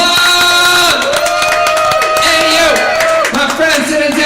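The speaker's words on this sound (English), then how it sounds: "Please give a round of applause." A live talent show audience bursts into loud, sustained applause and cheering, with dense clapping and whoops filling the room for several seconds alongside a steady musical tone.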